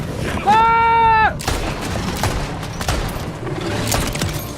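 Gunfire from the video game Borderlands 4 rattles off in quick, punchy shots after a brief tonal sound effect, with repeated impacts spread over a few seconds at close range.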